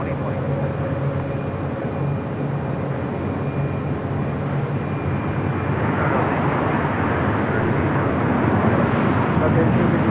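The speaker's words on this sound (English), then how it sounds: "That was Alaska Airlines Flight 1419 coming in from Guadalajara." An Alaska Airlines jet arriving at LAX from Guadalajara, a broad rushing engine roar that swells louder toward the end, heard from a distance under steady background noise.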